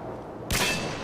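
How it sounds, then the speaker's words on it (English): Stun grenade going off in a video game: a sudden, loud broadband burst with a brief ringing tail, standing alone after a quiet lead-in. "Tossing stun grenade!"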